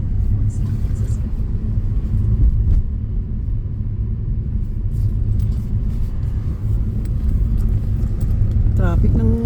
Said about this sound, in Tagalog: traffic ng freeway